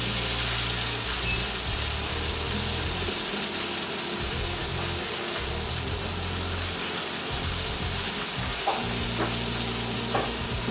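Red chilies fry in hot oil for fried oxtail with a loud, steady sizzle and crackle, a few faint clinks and scrapes now and then.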